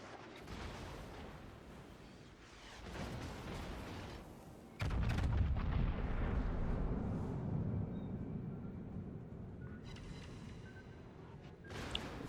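A Yamato battleship's main guns fire a salvo in World of Warships, a sudden heavy boom followed by a long rumbling roar, with lighter booms and battle noise before and after.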